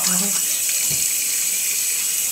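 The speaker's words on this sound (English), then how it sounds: "I close my eyes and wash it all off." Water runs from a bathroom sink tap during face washing, a steady hissing flow close by with faint splashes from hands.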